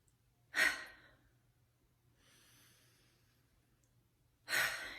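Two deep, loud breaths during a guided breathing exercise, about four seconds apart, each a strong airy rush, with a fainter breath in between.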